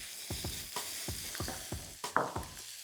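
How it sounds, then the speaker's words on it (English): Minced pork fries in hot oil in a wok, a bright sizzle under a run of rhythmic scraping strokes from stirring, roughly two or three per second, close and moderately quiet. "I did my oil to my wok. I'm just going to add my minced pork."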